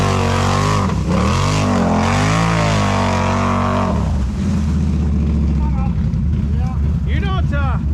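A Can-Am Renegade ATV engine revs steadily in thick mud, a loud droning motor with shifting pitch that dips and recovers, while people talk and shout over it near the end.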